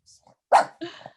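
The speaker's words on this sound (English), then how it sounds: "If I do the kitty sound, she'll start barking." A dog barks indoors: two short, sharp barks close by, the first louder, with soft faint sounds just before them.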